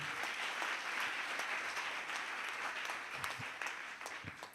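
A church congregation claps and cheers in a sustained, dense round of applause that carries on without pause throughout.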